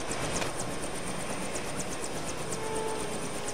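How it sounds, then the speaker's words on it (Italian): A helicopter arrives in the LEGO Jurassic World video game, a steady whirring engine drone with a fast rhythmic rotor chop, moderately loud and continuous with no talk. "Attenzione, un elicottero, attenzione."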